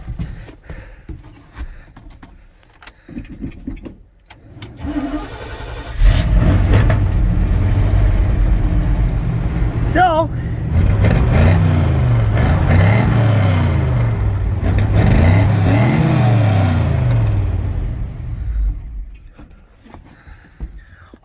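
A Chevy square body K10 pickup truck cranks and fires up, then idles with a rumbling V8-like tone and revs up and down several times before settling, close and loud; someone speaks briefly before it starts.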